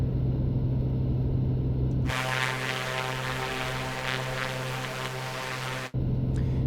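A simulated A2A Comanche piston-engine aircraft in Microsoft Flight Simulator roars up to takeoff power, a loud steady propeller drone with a buzzing harmonic hum that holds for several seconds before dropping back to a lower cockpit hum.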